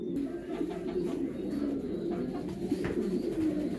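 French pigeons coo steadily in a breeding loft full of parent birds, a dense, continuous murmur of overlapping low calls close by, with no clear talk.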